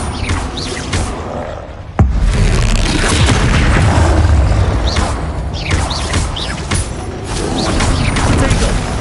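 A Bombarda spell goes off in the Hogwarts Legacy video game. One sudden loud boom is followed by dense, sustained rumbling combat noise, with game voices mixed in.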